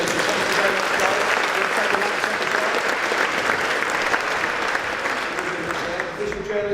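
A room of attendees at a news hackathon demo session claps in a sustained round of applause, fairly loud and even, tapering slightly toward the end.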